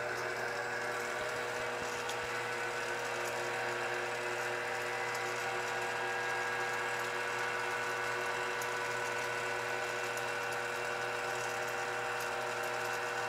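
A CNC spindle motor driven by a LinuxCNC PWM controller runs steadily at about 1000 RPM, giving a constant mechanical whine and hum with no change in pitch throughout.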